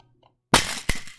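A plastic toy die from a magnet set snaps apart in a sudden loud crack after a near-silent lead-in, followed by a second sharp crack just before the sound tails off.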